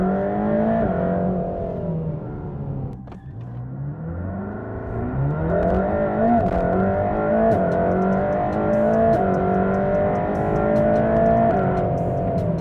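A Mercedes-AMG Black Series sports car accelerates hard, its engine note rising and falling through several gear changes over a steady, loud, close drone with no talk.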